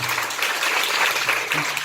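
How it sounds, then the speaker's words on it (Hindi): An audience applauding at a religious sermon, dense, continuous clapping that is close and fairly loud, filling the short moment without pause. "तालियों में कंजूसी है"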